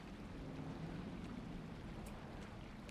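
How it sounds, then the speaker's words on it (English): Ambient water sound from the Pokemon Brilliant Diamond video game, a soft steady wash of waves with low rumble, faint and continuous without music or talk. "It's water sound now."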